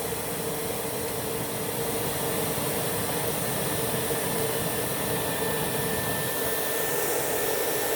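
A Rainbow E2 Silver vacuum cleaner runs during a suction test, giving a loud, steady, close whooshing roar with a faint high whine and no talk.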